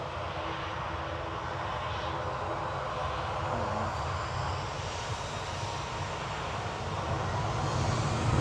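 A Boeing 737-800 jet airliner at Manchester Airport produces a steady, broad engine roar that swells gradually toward the end, heard from a moderate distance with no talking.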